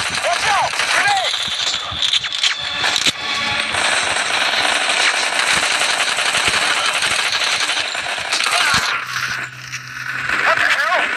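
A grenade blast in the mobile shooter Modern Combat 3: Fallen Nation, a loud close burst of crackling noise amid ongoing gunfire, with a brief shouted voice nearby.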